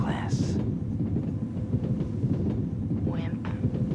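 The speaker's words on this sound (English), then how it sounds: "as the train pulls out of the station" A train rumbles steadily as it pulls out of a station, a continuous low rolling roar with faint higher squeals, while voices talk over it.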